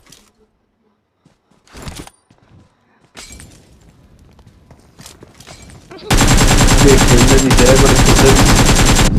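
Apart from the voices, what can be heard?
gunfire in a video game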